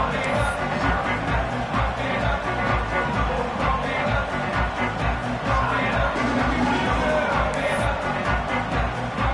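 A constant stadium crowd roar in a Madden football game, dense broadband murmur and cheering that holds steady and loud throughout, with no distinct voices standing out.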